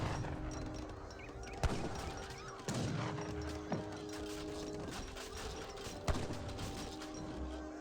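Organ gun volleys in an Age of Empires 3 match crack out as several sharp, separated bursts over a steady bed of battle noise and game ambience.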